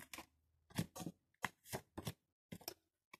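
Tarot cards are shuffled and drawn for a reading in a quiet room, making several short, crisp riffling bursts separated by brief silences, close and soft.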